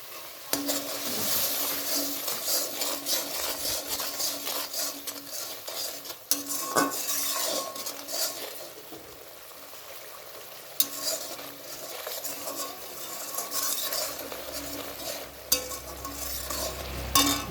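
Turmeric powder fries in a pan for aloo dum, a steady close sizzle under repeated scraping strokes and clinks of a metal spoon stirring against the pan.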